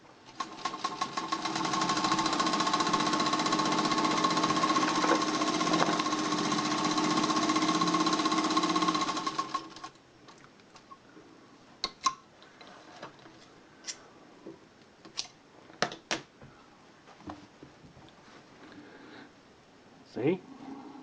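A Singer 201K sewing machine stitches through about 2 millimeters of material, running at a steady, loud mechanical whir for several seconds before stopping, followed by scattered clicks and handling knocks.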